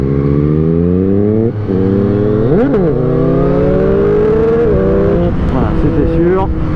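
A motorcycle engine revs hard and accelerates as the rider tries to lift into a wheelie, loud and close with sharp pitch sweeps as it shifts, and voices are heard over the engine.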